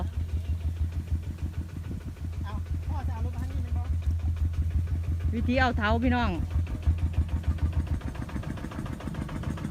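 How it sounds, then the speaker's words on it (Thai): A steady low tractor engine idles throughout, chugging evenly beneath someone speaking close by. "เสียงรถไถพอ"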